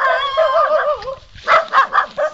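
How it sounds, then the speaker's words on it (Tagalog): A dog whines in a wavering, high-pitched tone, then gives four quick, loud, close barks, with no speech. "Yan po yung aso."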